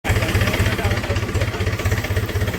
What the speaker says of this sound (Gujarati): તમે જોઈ લો, અમે ચાલ્યા છે ટ્રેક્ટર પર.